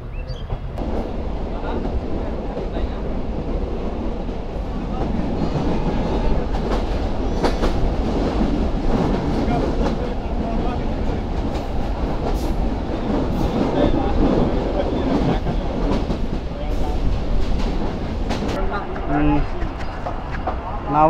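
The Mongla commuter train, which links a land port to a sea port, runs on rails between Benapole and Noapara stations. It makes a continuous loud rumble with clickety-clack wheel beats, heard from inside the carriage.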